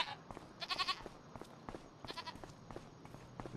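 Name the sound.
goats bleating in the video game Farming Simulator 25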